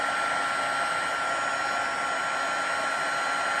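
A handheld embossing heat tool blows a steady, loud, even whoosh of hot air onto an embossed card panel, running continuously on its own.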